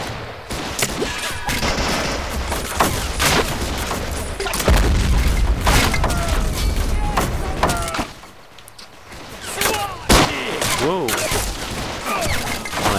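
Heavy battlefield din from high explosive rounds detonating in the war strategy game Men of War: a dense run of booms and bursts of gunfire-like cracks, loud and continuous, with sharper isolated blasts toward the end.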